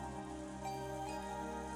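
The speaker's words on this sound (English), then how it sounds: "We listened to the sound of the rain." Rain sound effect from the video game Umineko When They Cry, a soft, steady patter of rain, faint and unbroken, with no talk.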